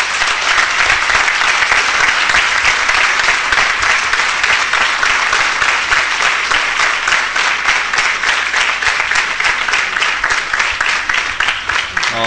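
Theatre audience at a closing ceremony giving sustained, loud applause, a dense continuous roar of many hands clapping with no break for the whole stretch.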